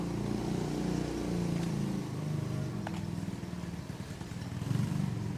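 A motorcycle engine hums steadily nearby on a Malaysian village lane in the evening, a continuous low drone with slight surges.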